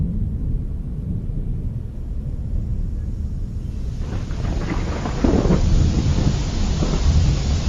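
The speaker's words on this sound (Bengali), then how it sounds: "জোরে বৃষ্টি শুরু হয়ে গেল" Heavy rain with rumbling thunder in a cartoon soundtrack, breaking over a rice field where harvested paddy sheaves are being loaded; a steady low roar that thickens and grows louder partway through, with no voices.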